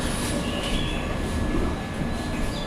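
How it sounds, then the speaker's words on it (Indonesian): The Gumarang business class train pulls into Cepu station after dark, a loud, steady roar of wheels and carriages with faint squealing tones riding on top. "Masuk di stasiun Cepu, kondisi sudah gelap dan kereta berhenti di stasiun Cepu cukup lama"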